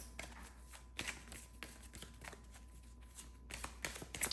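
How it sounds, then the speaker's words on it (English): Tarot cards shuffled and drawn during a love reading, with repeated soft riffling bursts and taps close by, some louder flicks near the end, and no talking. "So let's see a love message. I'm gonna pull 3 cards."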